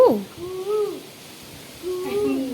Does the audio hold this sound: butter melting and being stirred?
no